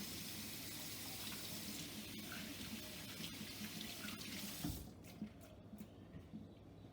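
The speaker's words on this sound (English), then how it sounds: "now washing our hands is finished" A home kitchen tap runs steadily while hands are washed under it, a close, continuous splashing rush that stops near the end and leaves a quieter room with faint drips.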